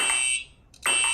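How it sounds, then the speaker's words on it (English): A building fire alarm, pulled at a Chuck E. Cheese's, blares a loud piercing electronic tone that cuts out briefly, then sounds again at full volume, close and alone. "Mr. Draper, the fire alarm went off."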